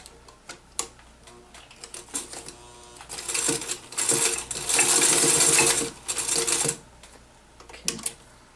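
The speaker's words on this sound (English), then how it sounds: "what you do now is sew the other three sides of that window" A sewing machine stitches a zippered pocket window, starting with isolated clicks and short whirring bursts before running in longer loud mechanical runs, then slowing back to scattered ticks.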